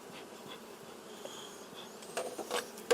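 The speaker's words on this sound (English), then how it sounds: "I have a lot of bees around my face that are telling me that they don't appreciate me being in the hive anymore" Honey bees buzzing close around a beekeeper's face at an open hive, a continuous soft drone with individual bees passing near, faint and alone.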